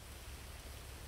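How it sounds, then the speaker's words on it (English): Rain in the GTA 5 video game falls as a steady, even hiss of faint, broadband noise with no talk. "Jesus Christ, raining. This is a good kind of rain, though."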